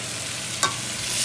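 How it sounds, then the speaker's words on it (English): Mandolin-sliced zucchini and summer squash sautéing in about two tablespoons of olive oil, a steady close hiss broken by one brief sharp clink of stirring midway. "now we're working on sauteing the zucchini and the squash that we sliced with the mandolin"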